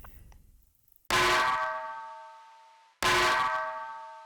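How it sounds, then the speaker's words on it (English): A crushed, heavily compressed snare ring sample for modern metal production strikes twice, each a loud metallic clang with a long ringing tone that slowly decays, about two seconds apart, with no voices. "And finally, I also added this snare ring"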